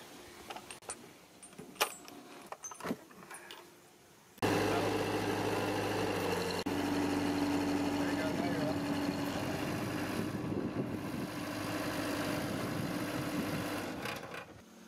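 Machine engine starts abruptly after some clanks and jingling, then runs loud and steady as its forks lift the rear wheel of a skid steer, with people talking over it.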